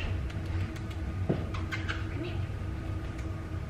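A brief, faint cat sound rises over a noisy room background, with people talking nearby.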